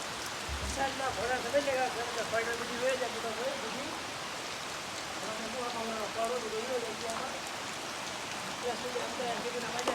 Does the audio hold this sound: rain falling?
yes